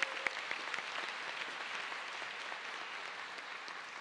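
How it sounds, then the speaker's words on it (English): Steady audience applause at a high school early college graduation ceremony, a dense wash of many hands clapping continuously at moderate loudness from a distance. "Can we get a round of applause?"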